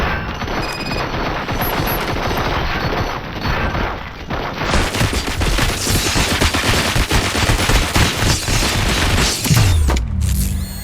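Sustained gunfire in the game RoboCop: Rogue City, loud dense bursts of automatic fire with heavy impacts and booms, continuous for about eleven seconds with a metallic mechanical whine near the end.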